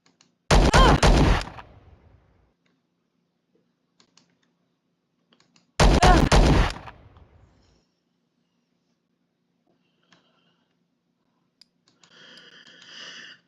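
Gunfire in Star Traders Frontiers space combat comes as two loud, sharp bursts about five seconds apart, each fading quickly, with a faint electronic tone near the end.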